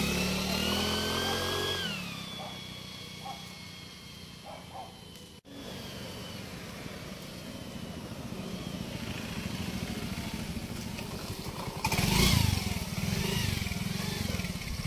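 A motorcycle fitted with a Magic Whistle exhaust whistle rides by on a road test, giving a high whistling tone over engine noise that fades into the distance and then returns louder near the end, with no voices.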